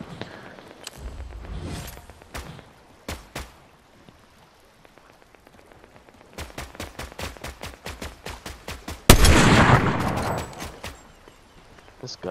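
A suppressed gun in Fortnite fires in quick rhythmic bursts of soft clicks, several separate strings of shots, with one louder blast near the end and scattered game noise in between.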